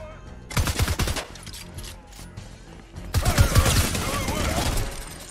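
Fortnite minigun fire in two long bursts, a dense rapid stream of shots lasting about a second, then a quieter gap with mechanical clatter, followed by a longer, louder volley through the end.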